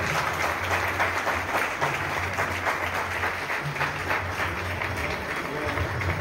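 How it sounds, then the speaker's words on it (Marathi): Audience at a kirtan celebration marking a Marathi kirtankar's sixtieth birthday applauds loudly and steadily, a thick, even clapping that carries on throughout with a low hum beneath. "या कुटुंबाकरता जोरदार टाळ्या होत्या"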